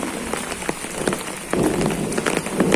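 Heavy rain pours steadily onto a garden lawn with strong wind, dense patter and scattered louder drops, growing heavier partway through.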